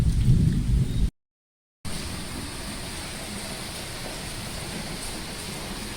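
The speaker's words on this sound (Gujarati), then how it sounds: "ભરેલો વરસાદ ગાજે હજી" Heavy night rain with rumbling thunder, a dense steady roar of downpour and low booms, interrupted by a brief cut to silence before the rain resumes.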